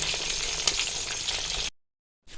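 Chicken pieces frying in oil in a pan, a loud steady crackling sizzle that cuts off abruptly, falls silent briefly, then resumes.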